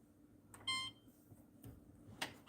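A kitchen air fryer gives a few short electronic beeps as buttons are pressed to set it to air fry, with quiet handling clicks between them.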